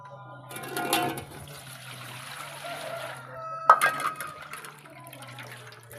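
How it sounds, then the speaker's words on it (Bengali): Water pours into strained starch prepared for a Jamdani saree, a soft splashing trickle lasting a few seconds, then a brief knock and quieter dribbling. "এর মধ্যে কিছুটা জল মিশাবো।"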